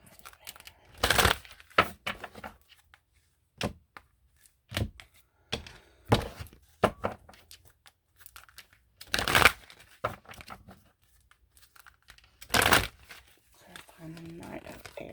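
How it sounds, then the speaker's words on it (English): Irregular bursts of tarot cards being shuffled and riffled close up, with quiet gaps between and a voice speaking briefly. "I feel like I need to shuffle these some more."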